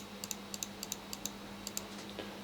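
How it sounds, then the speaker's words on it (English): Left button on a Cherry MC 2.1 gaming mouse gives about a dozen sharp, light clicks, mostly in quick pairs, faint and close in an otherwise quiet room. "So this is the left mouse button,"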